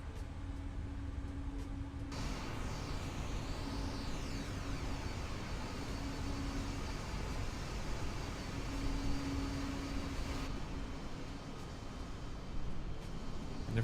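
A simulated PMDG 777-200ER airliner taxis in Microsoft Flight Simulator, its engines giving a steady, fairly quiet drone that holds without pause.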